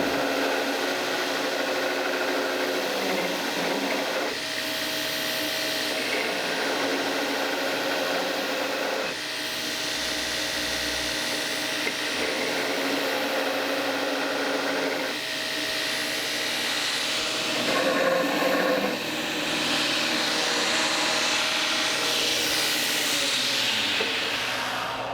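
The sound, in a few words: grinding a junkyard knife blade on a grinder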